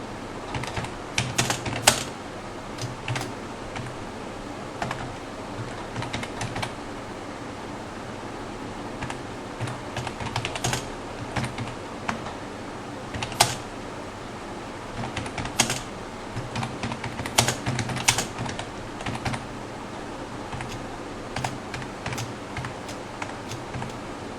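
Text is typed on a computer keyboard in uneven bursts of close, crisp key clicks with short pauses between them, against a faint steady hum.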